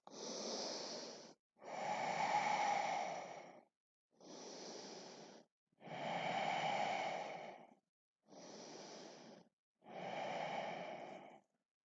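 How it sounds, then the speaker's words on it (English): Three slow, deep breaths taken while lying in a knees-to-chest stretch, each one a long soft inhale followed by a fuller exhale, close and quiet with silence between. "3 deep breaths."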